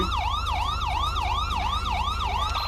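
A police siren in Grand Theft Auto V with the LSPDFR mod wails in a steady, loud up-and-down cycle, repeating about every half second, alone with no talk.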